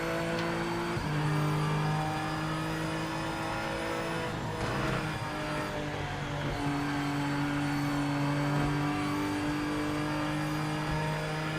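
A race car engine in the video game Project Motor Racing drones and revs steadily as it pulls out of the pits, with gear changes shifting the pitch; continuous and close, no talking.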